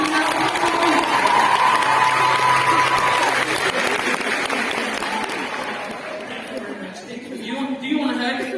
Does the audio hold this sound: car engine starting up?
no